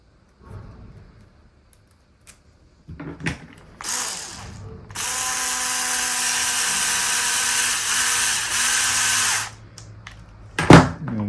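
A power tool drives a 3x15 bolt into the steering assembly of a Traxxas Slash 2WD RC car, with a few clicks and handling noises first, then a sustained close whirring drive lasting several seconds, followed by a final clack.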